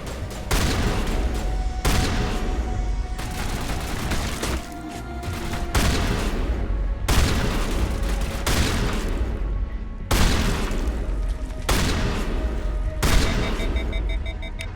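Pistol gunfire in the Mass Effect video game: a series of sharp, loud shots spaced about a second or two apart, each with a brief ringing tail over low background rumble, close and without talking.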